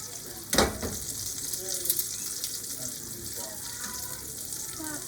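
Portuguese sausage frying in oil in a pan, a steady close sizzle that opens with a sharp splashy burst, then settles into an even hiss with faint crackles.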